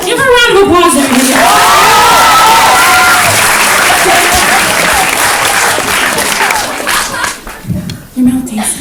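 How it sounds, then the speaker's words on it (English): A live stage-show audience in Sydney breaks into loud, sustained applause and clapping with some cheering, filling the room for several seconds before tapering off near the end. "Give her a round of applause"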